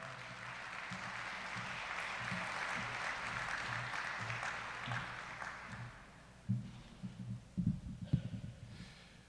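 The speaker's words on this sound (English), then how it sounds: "Round of applause, everyone." Sustained crowd applause fills a banquet hall at the 2024 St Thomas & District Impact Awards as an award presenter heads to the stage, steady for several seconds before thinning into scattered claps and a few louder bumps.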